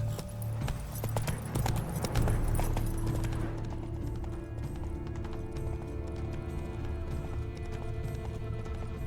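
Horse hooves clip-clop at a fast, steady gallop in The Witcher 3 video game, loud and continuous against a dense background of game sound, with a busier burst early on that then settles into an even rhythm.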